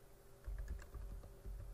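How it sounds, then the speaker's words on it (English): Keys tap on a computer keyboard at a rapid, light, uneven pace, a handful of soft clicks over a low room hum. The tapping is faint and there is no talk. "I'm going to hit E on the keyboard to edit the startup file"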